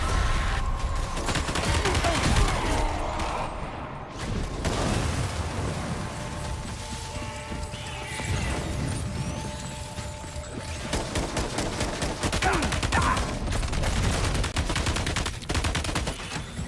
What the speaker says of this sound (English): This gun kicks so much.